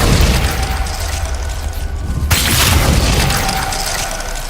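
A Glacius ice spell from Hogwarts Legacy hits with a loud, crunchy burst that flares into a bright, crackling shatter midway, over a continuous low rumble.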